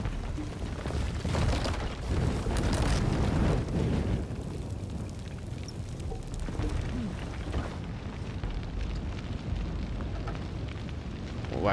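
A path of oil catches fire and burns in Shadow of the Tomb Raider: a loud roaring whoosh swells in the first seconds, then settles into a steady crackling rumble of flame with no talk over it.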